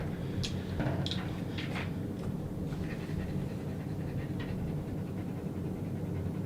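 A dachshund pants softly and rapidly up close, a steady run of quick breaths with a few faint whimpers, against low indoor background hum.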